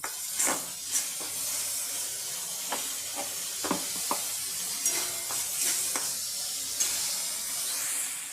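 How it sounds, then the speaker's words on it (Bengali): Spices frying in a pan for a prawn dish, a steady sizzle and hiss with repeated short stirring scrapes and clinks spaced through the clip, close and moderately loud with no talking. "আমার মশলাটা তিন মিনিট কষানো হয়ে গিয়েছে"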